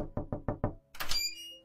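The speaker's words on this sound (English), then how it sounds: "Can I be the one to knock?" Five evenly spaced, sharp knocks on a house's front door while trick-or-treating on Halloween, close and loud, followed by a brief rattling, ringing noise after a short pause.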